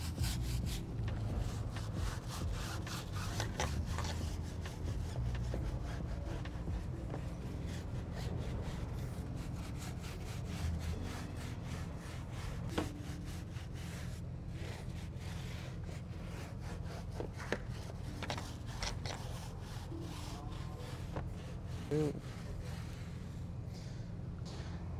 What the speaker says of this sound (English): we can start scrubbing the surface of the tire